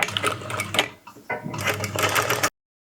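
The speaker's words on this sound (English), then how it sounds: "we're going to sew the center back seam from the double notch down to the bottom edge of the seam, down to the hem" A sewing machine stitches the center back seam of a skirt, running loud and close in two steady bursts separated by a short pause.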